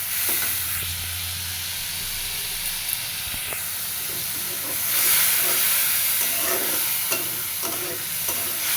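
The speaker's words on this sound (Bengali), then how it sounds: "জল দিছি যাতে মশলা কষে যায়, তলায় মশলাটা পুড়ে না যায়।" Water poured into frying masala for a tilapia fish curry sets off a loud, steady sizzle and hiss of steam up close, with occasional stirring clatter in the pan.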